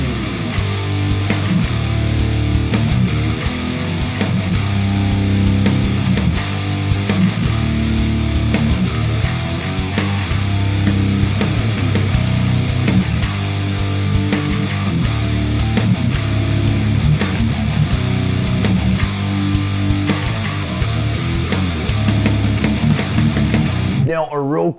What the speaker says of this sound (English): how to play cheesy power ballads on a 7-string guitar